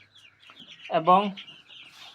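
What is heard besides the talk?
chickens clucking in a small poultry farm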